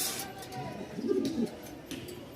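Soft, low pigeon coos rise briefly over the murmuring background of a pigeon market in Mirpur-1, Dhaka, with a faint chirp or two mixed in.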